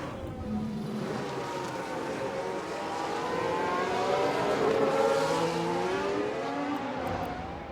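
Race car spinning out in an F1 Manager 2022 replay, an Alpine car in a racing video game, with a loud, sustained engine roar and a rising, wavering whine that swells and fades, surrounded by heavy track noise.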